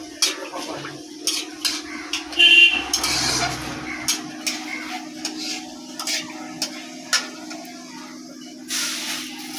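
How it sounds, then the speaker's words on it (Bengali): Dried red chillies and whole five-spice seeds frying in hot oil for a vegetarian dish, with a steady sizzle, repeated light clinks and scrapes of a utensil against the pan, and a brief louder spatter early on. "5 ফোড়ন দিয়ে দিলাম।"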